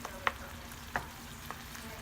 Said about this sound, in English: let the onions cook a little bit more